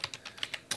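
Quiet, quick keystrokes on a computer keyboard tap out about eight irregular clicks in under a second, close and alone, as a password is entered at a command line.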